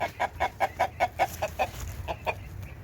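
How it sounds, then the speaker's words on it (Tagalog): A chicken clucks in a fast run of about nine even, close clucks, then goes quiet before two more, with faint outdoor background noise underneath. "Mayroong chicken dito."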